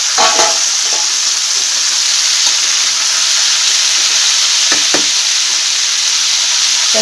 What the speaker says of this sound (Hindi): छतु को अल्प फ्राए करदे